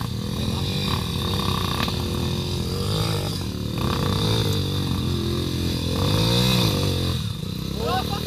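A motorcycle engine runs and revs continuously in a home backyard, with exhaust smoke coming from the breather, a steady loud drone that swells in a few revs, while people talk nearby.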